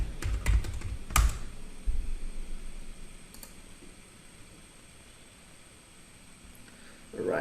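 Password typed on a computer keyboard: a quick burst of sharp key clicks in the first second or so, then a few scattered taps, fading into quiet room hiss.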